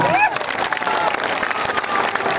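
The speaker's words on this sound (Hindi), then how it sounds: "जोर से बजाइए ताली" Crowd clapping at a Jan Suraaj political rally in Bihar, dense loud applause with crowd noise and a brief whistle near the start.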